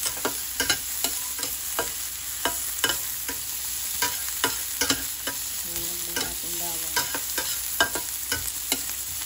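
Ginger and fish fry in a pan with a constant hissing sizzle, punctuated by repeated sharp scraping knocks of a utensil stirring against the pan, close-up and without speech.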